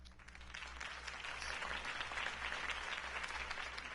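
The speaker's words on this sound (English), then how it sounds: "could have heard that applause" Steady applause from a crowd, a dense wash of clapping that swells slightly and holds, heard from a distance.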